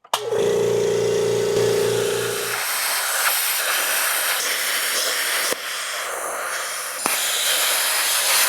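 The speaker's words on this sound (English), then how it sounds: "Step one is turning on the air compressor, which is hooked up to the Bluetti." An air compressor powered by a Bluetti portable power station hums loudly for about two and a half seconds, then gives way to a steady hiss of air, broken by a few faint clicks.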